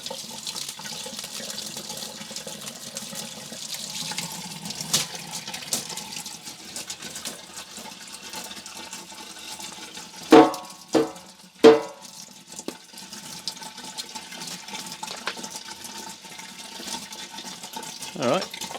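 Running water rinsing a part from a Dyson DC33 vacuum cleaner, a steady close hiss of tap flow with a few louder splashing bursts midway, under talk.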